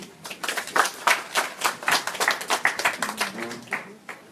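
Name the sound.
crowd applauding Ivorian Popular Front representatives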